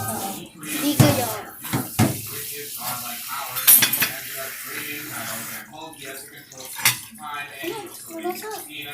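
Dishes being washed under running water at a sink, with clattering plates and cutlery and tap flow beneath people chatting and laughing nearby throughout.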